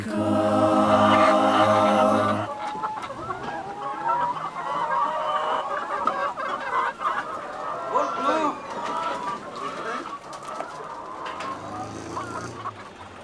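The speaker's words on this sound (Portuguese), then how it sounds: "Ficamos felizes pelas milhares de galinhas que foram doadas para nós." Chickens among thousands of donated birds on a farm in Jamaica; a loud burst of clucking and honking fowl opens, followed by a busy chorus of clucks and squawks that carries on throughout.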